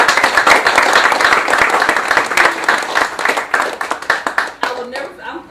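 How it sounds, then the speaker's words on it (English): Audience applause at a live talk-show authors' showcase: dense, steady clapping from a crowd that holds strong for about four seconds, then thins into scattered individual claps as it dies away. "I think that deserves an applause for Bonita."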